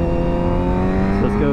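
A motorcycle engine revs higher after a downshift into second gear while riding, a loud steady drone holding close throughout.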